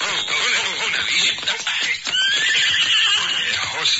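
A thirsty horse whinnies loudly and close, a shrill, wavering neigh that rises over shuffling hooves and movement.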